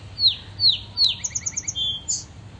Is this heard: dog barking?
no